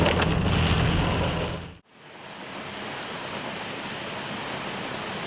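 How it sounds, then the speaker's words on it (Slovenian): Heavy rain pours after a cloudburst over Krtošče while the Trebuščica stream floods its banks: a loud, steady broadband rush and hiss that briefly cuts out, then resumes, with no talking. "Dež, oblak se je utrgal nad Krtoščami."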